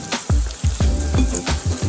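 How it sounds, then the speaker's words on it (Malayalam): Prawns sizzle loudly in a frying pan as they are flipped, with several quick bursts of spatter and crackle over a continuous frying hiss. "ഇനി ചെമ്മീൻ തിരിച്ചിട്ട് കൊടുക്കാം"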